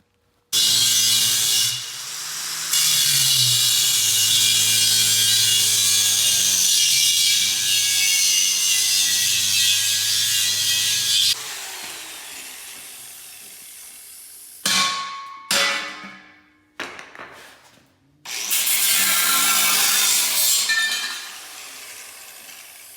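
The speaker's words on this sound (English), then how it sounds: "That's why I'm going to cut this piece out of 4 inches by 5 inches." A steel propane tank being cut open with a power tool, loud sustained grinding and sawing that runs for long stretches, pauses, then resumes in shorter bursts, with no talking.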